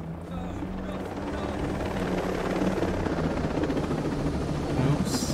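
A helicopter in the video game Ghost Recon Breakpoint drones steadily with a constant rotor roar that swells slightly louder toward the end, with no other sounds.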